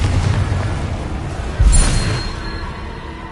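A Confringo fire spell blast in Hogwarts Legacy, a dull booming burst over low rumbling background, loud and close, with a short decaying tail.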